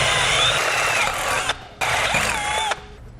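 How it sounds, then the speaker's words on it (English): A power drill whirs through two short bursts of drilling holes for airline fittings in a bracket, with a brief pause between them and the pitch shifting as the bit bites. "Using a drill bit to match the end of our airline fitting"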